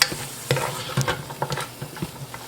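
Diced baby carrots are sautéed in a pot for a Caribbean fish chowder: a soft steady sizzle under repeated rhythmic spoon scrapes and clacks, close and moderately loud, with no talking.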